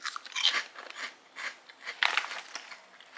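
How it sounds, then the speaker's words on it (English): Crunchy shrimp chips being bitten and chewed close to the mic, a series of crisp crackling crunches in irregular bursts with quiet gaps between. "I want to do these shrimp chips"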